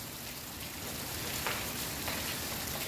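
Steady rain pours down in a continuous, even hiss that stays fairly loud and unbroken throughout, with no voices.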